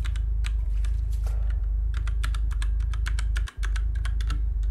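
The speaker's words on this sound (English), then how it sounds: "I'm pressing every button on the keyboard." Keys pressed on a computer keyboard while playing a scary Halloween game, a rapid irregular series of close, crisp clicks over a steady low hum, with a brief pause near the end.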